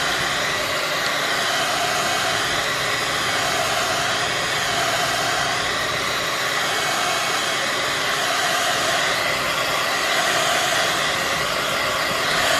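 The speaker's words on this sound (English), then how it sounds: "I am going to use my heat gun to speed the process along." A heat gun blows steadily on drying gesso and craft paint, a loud, unbroken hiss of rushing air that holds level throughout without pause.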